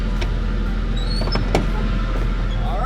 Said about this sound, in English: Gotta lock up the back of the truck.